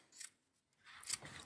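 Small sewing scissors trim a fabric seam allowance in two quick, close, crisp snips separated by a short pause.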